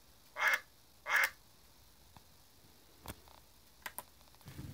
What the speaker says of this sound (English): Here's a duck sound.